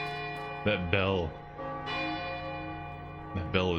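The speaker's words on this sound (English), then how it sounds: "That bell is so much louder than everything else." Loud church bell tolling in the fantasy video game Infinite Undiscovery, a sustained metallic ring with rich ringing overtones and repeated strikes, clearly louder than the surrounding game audio.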